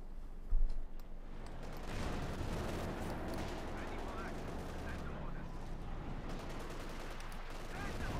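Battle in the World War II strategy game Company of Heroes 2 brings bursts of gunfire and distant artillery, with a heavy thump early on, then a dense rolling rattle of shots that continues throughout.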